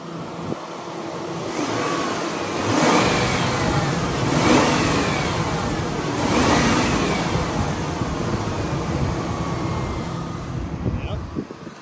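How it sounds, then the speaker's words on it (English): A 1997 Lincoln Town Car with 235,000 miles, warmed to operating temperature, has its engine revved several times from idle, each swell rising and falling, loud and close, with a few faint voice sounds. "I'll even rev it up a little bit since it's about at temperature for you"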